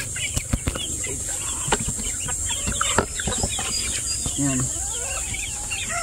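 Chickens in a hot backyard coop, two roosters and a hen, giving close, busy clucks and squawks with some wing flapping, while a person talks over them.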